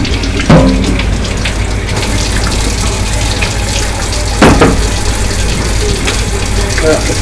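Kitchen tap water running in a steady gushing stream for rinsing, loud and close, with a couple of sharp knocks of items in the sink.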